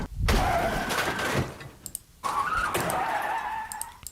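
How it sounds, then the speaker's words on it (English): Car crash sound effect auditioned during a music production session, two loud skidding, crunching bursts separated by a brief gap, each sustained for over a second with faint rattling debris. "we can try to have a car crash"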